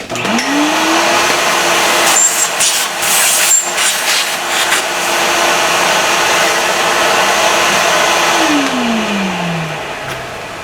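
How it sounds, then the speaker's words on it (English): A vacuum cleaner in a workshop where steel is being machined spins up with a rising whine, holds a loud steady drone with some clatter, then winds down in pitch near the end. "Let's do a little vacuum here."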